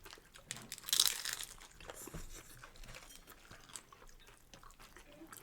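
Crunchy Taco Bell taco shell bitten and chewed up close, with a sharp crackling bite near the start followed by softer intermittent crunching and chewing.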